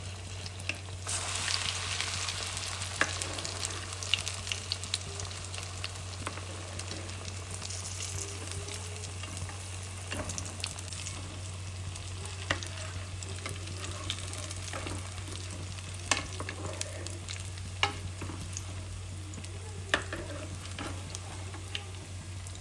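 Bread rolls deep-fry in oil over a low flame with a continuous close sizzle and bubbling, broken by occasional spoon scrapes and taps as they are turned, with no talking throughout.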